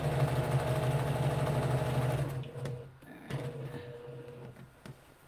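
A serger overlock machine stitches a shirt seam with a fast, steady, close mechanical whir that runs for about two and a half seconds, then stops, leaving quieter handling noises.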